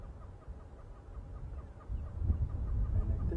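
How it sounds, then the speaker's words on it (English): A southern yellow-billed hornbill gives a rapid run of clucking notes in the African bush. The calls build steadily, growing louder and denser near the end over low background rumble, with no voices. "The noise is a hornbill."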